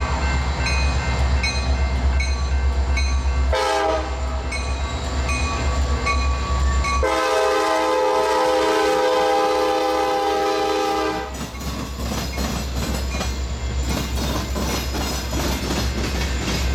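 Norfolk Southern freight train L71, led by an EMD GP60 locomotive, rumbles past loudly near a diamond crossing, sounding its horn in two long blasts over the engine drone, then wheels clatter as the cars roll by.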